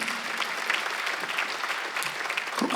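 Congregation clapping together during a Sunday worship service in a Korean church, a steady, moderately loud round of applause lasting several seconds in a reverberant hall, ending with a brief louder burst.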